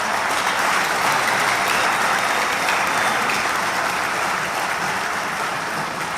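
Dense, steady applause from a large crowd at a political rally on Kodra e Trimave in Kosovo, a continuous wash of clapping that holds its loudness for the whole stretch with no voices rising above it.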